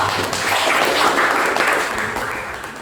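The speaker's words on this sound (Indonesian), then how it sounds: "Tepuk tangan dong" Classmates in a teacher-training session clap for a group presentation, a close, lively round of applause from a small room that stays steady through the short stretch.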